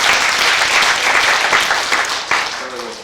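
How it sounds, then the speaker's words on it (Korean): Loud, close applause from members at a labor union general meeting, dense clapping for about three seconds before tapering off. "그러면 만장일치로 통과해 그럼 박수 좀 쳐주십시오."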